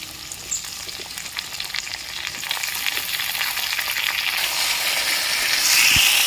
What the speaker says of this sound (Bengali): ধুয়ে রাখা ঝিঙে দিয়ে দিচ্ছি